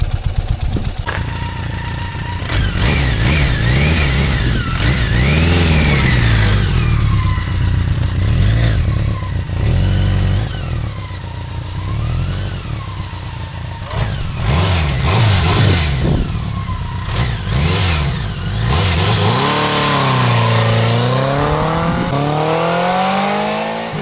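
Motorcycle pulling hard through a 0-100 km/h acceleration run, engine note climbing and dropping through repeated gear changes, loud and close, with a final rising rev sweep.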